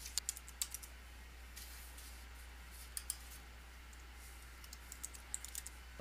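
Faint, quick clicks of a computer keyboard sound in short bursts as names are typed, over a low steady hum.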